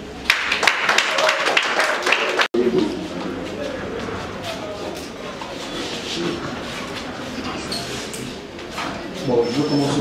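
Guests at a civil wedding ceremony in a town hall break into applause. The clapping is steady and fills the room, with a brief cut partway through and murmured voices mixed in.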